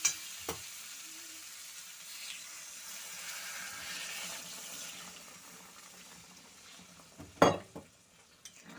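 Bengali-style egg curry masala frying in a pan gives a continuous soft sizzle. Near the end liquid gravy is poured in with a brief splash and a louder hiss. There is no talking.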